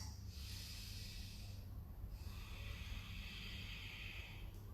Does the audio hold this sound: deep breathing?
yes